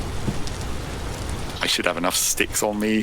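Steady rain patters and hisses in the survival game Vintage Story, a continuous wash running beneath someone speaking in the second half.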